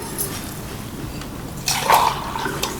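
Water poured into a drinking glass in a household, a brief close splash rising over quiet room noise near the end.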